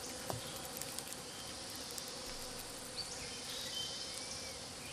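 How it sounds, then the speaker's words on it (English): Insects buzz in a steady, dense hum on a humid, dark rainforest floor where almendro trees grow, with the swarm thick with mosquitoes and continuous throughout. "The forest floor, alive with thousands of buzzing mosquitoes, is humid and dark."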